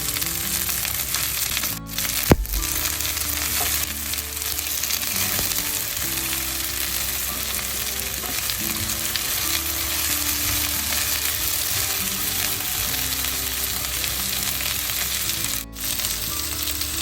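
Okra sizzles steadily in a pan with golden fried onions and chilli powder, a dense continuous crackle with occasional stirring scrapes and a couple of sharp clanks, close and loud with no talking.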